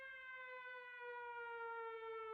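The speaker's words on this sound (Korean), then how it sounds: "사이렌이 울렸다" A civil-defense-style siren holds a steady, slightly rising wail from start to finish, its clear harmonic tone sustained and fairly faint, with no voices.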